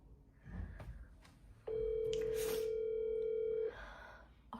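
An unanswered phone call gives a single long, steady ringback tone lasting about two seconds. It is loud and close, with quieter background noise before and after.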